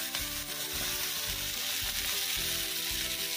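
Chopped tomato going into a hot, sizzling pan, a dense close frying hiss with the rhythmic scrape and knock of a spoon stirring through the pieces, no voices present.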